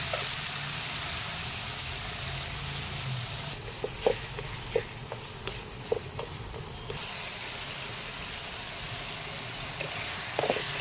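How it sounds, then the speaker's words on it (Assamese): Tomatoes frying in oil in a pan until soft, a continuous low sizzle with a string of sharp spatula taps against the pan in the middle and near the end. "বিলাহীখিনি ধুনীয়াকৈ গলি যোৱালৈকে মই এনেকৈ ভাজি ল'ম।"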